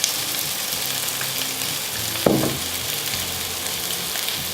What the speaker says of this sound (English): I'm going to throw in some chorizos and cook it till golden brown